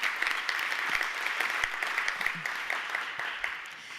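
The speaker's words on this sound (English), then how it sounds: "just another round of applause for everybody" Audience at an investment summit in Los Angeles claps in a sustained, moderately distant round of applause, even and unbroken throughout.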